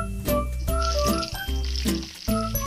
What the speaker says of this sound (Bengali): তার জন্য আমি সরষের তেল দিয়ে দিচ্ছি।